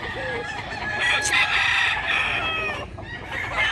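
Roosters crow over a steady din of clucking fowl at a morning chicken market in Mantalungon, Cebu, several calls overlapping and fairly close, with no clear talk.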